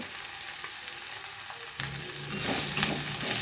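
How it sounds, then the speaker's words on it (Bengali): Onions and ginger paste fry in hot oil for a rohu fish curry, a close, steady sizzle that grows louder and brighter partway through, with faint stirring scrapes and no voices. "পেঁয়াজটাও ভালোভাবে ভাজা হয়ে গেছে।"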